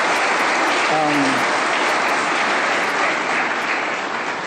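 Sustained applause fills a university town hall session on funding model questions, dense and steady throughout, with a brief spoken remark rising over the clapping near the start.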